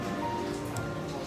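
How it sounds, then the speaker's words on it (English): Rain pours down hard in a dense, steady hiss, drops spattering close by with no pause, heard from a boat restaurant in Paris during a thunderstorm. "It's raining very hard"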